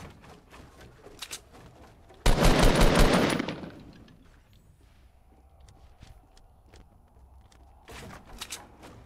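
In Fortnite, a light machine gun fires one loud, rapid burst lasting about a second. Softer scattered shots and clicks follow, and a short crackle comes near the end.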